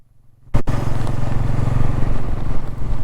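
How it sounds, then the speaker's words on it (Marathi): A new motorcycle on a night ride toward Ghangad fort: after a quiet moment, the engine bursts in loud and close, then holds a steady, throbbing roar. "लितेशची नवीन बाईक कशी वाटते मित्रांनो"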